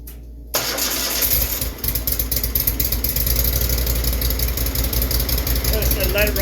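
A Cub Cadet zero-turn riding lawn mower engine cranks briefly after a short quiet moment, catches, and settles into a loud, steady, rumbling run close by, with a slight dip in the engine note partway through.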